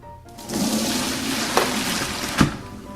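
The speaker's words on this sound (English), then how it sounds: "Two minutes over, I'm gonna drain the hot water." Hot water poured out of a pot into a sink after briefly boiling peeled garlic and green onions for a Korean spicy chicken stew; a steady rushing gush lasting a few seconds with a couple of sharp clunks, no talking.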